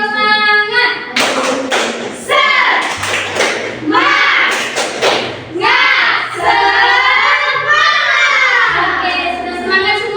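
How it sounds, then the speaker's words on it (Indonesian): Schoolchildren in an elementary classroom perform the 'tepuk semangat' clap chant, a loud rhythmic pattern of sharp hand claps and thumps mixed with children's chanting voices throughout. "Tepuk semangat."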